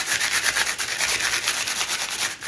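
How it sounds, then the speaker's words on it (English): Sandpaper rubs briskly over native plant seeds to scarify them, a close, loud, continuous scratchy rasp with quick rhythmic strokes and no voices. "you can do it the fast way and you can just use some sandpaper and scratch it all over them"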